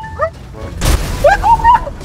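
A car blowing up in Grand Theft Auto V, a single broad burst landing near the middle amid game noise, with whistling, warbling tones and a voice around it.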